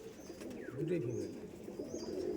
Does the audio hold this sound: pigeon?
yes